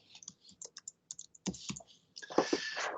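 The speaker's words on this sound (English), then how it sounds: "I'm going to type the word" Fingers type a word on a computer keyboard while working in Illustrator: sparse, irregular key clicks at first, then a denser, louder burst of keystrokes near the end, close up with no talking.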